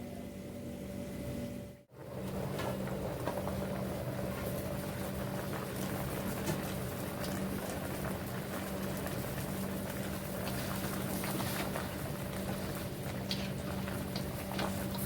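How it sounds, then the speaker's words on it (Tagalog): A pot of pork trotters boils steadily with a constant bubbling, hissing wash, loud and close, with a brief dropout near the start. "So papakuluan natin siya"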